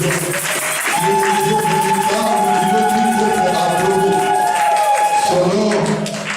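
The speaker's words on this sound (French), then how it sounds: "Je mérite une acclamation et je mérite une" A congregation at an evangelical church applauds and acclaims, a loud, dense crowd roar that holds steady throughout while sustained sung or played tones ring above it.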